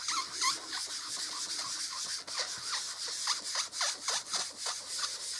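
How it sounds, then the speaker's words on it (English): A tool scratches score lines into card stock in quick, repeated strokes, up close and fairly loud, forming an uneven rhythmic rasp with no talking. "scratched in my little score lines"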